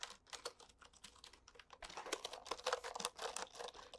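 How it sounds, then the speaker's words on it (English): Gentle typing on a vintage metal keyboard, close and quiet, with crisp individual key clicks in irregular bursts that grow busier and slightly louder in the second half; no talking. "Let's type some stuff out, shall we?"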